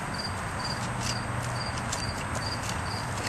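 An untrimmed rescue horse shifts its hooves during its first hoof cleaning, a few soft, irregular thuds and scuffs over steady insect chirping and a low background hum, with no talk.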